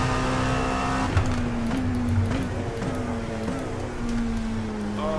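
Dallara P217 LMP2 race car with a 600-horsepower engine in iRacing, a loud steady engine drone with pitch rising and dipping through gear changes and cornering, accompanied by faint tire scrub.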